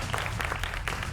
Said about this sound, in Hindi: महंत नवल किशोर दास जी, जोरदार तालियों से अभिनंदन करिए महंत जी का।